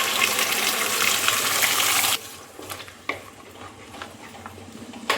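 Ground masala with cloves, cinnamon, cardamom and fennel seeds fries in hot ghee for chana masala, giving a strong hissing sizzle for about two seconds that then drops to a quieter crackle with occasional clinks.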